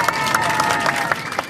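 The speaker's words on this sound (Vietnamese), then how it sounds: "Tất cả mọi người trên máy bay thích thú vỗ tay tán thưởng." Airplane passengers clap for a flight attendant who has been singing in the cabin; scattered applause runs steadily over a held tonal sound and some voices.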